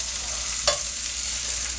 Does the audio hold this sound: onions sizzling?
yes